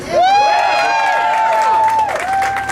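A rally crowd cheering and shouting, with loud voices and whoops at close range and some applause mixed into the sustained roar.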